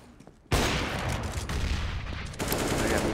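Pistol gunfire on Overpass in a Counter-Strike match, a sudden dense burst of rapid shots erupting after a quiet moment and continuing loud and unbroken, with a fresh surge near the end.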